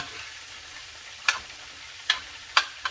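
Frozen corn sizzling in a frying pan over medium-high heat, a steady quiet frying hiss broken by four sharp pops or spatters, close up with no voices.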